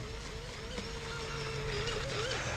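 A small RC hydroplane boat motor whines faintly in the distance on the water, its thin high tone wavering slightly over a soft background rush.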